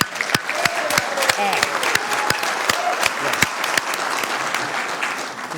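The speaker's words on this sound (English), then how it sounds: "can we just clap it up for him one more time?" Audience applause at a Sacramento City Council meeting, steady dense clapping with a few sharp individual claps standing out nearby, voices murmuring underneath.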